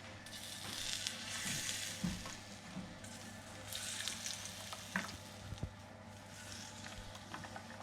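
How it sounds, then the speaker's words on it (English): Soft, continuous sizzling and crackling of Yorkshire pudding batter frying in hot fat, with a few faint clinks, fairly quiet and close. "you can hear it crackling"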